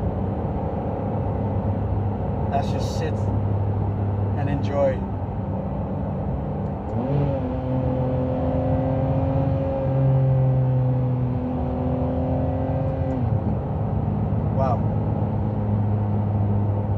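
A Ferrari 599 GTB Fiorano V12 sits low and steady under a voice talking, its pitch rising and falling across a couple of long revs, with tonal engine harmonics holding in the middle of the clip.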